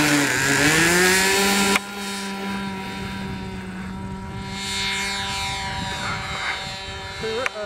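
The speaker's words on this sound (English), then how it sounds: "Test flight with the new motor." A model aircraft runs its new motor on a test flight. A loud, close, buzzing whine rises slightly in pitch, cuts abruptly, then continues as a fainter droning tone while the plane flies at a distance.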